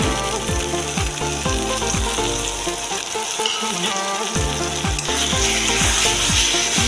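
Spices for chicken kosha sizzle and fry loudly in a pan, a dense continuous crackle broken by regular scraping stirs, with a short quieter lull midway.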